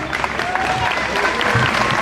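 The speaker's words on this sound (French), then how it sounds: "Je remercie les adultes pour ces applaudissements qui sont amplement mérités" Adults applaud at an Armistice Day ceremony in Châtillon-sur-Seine on 11 November 2022, steady close clapping filling the moment with faint crowd murmur beneath.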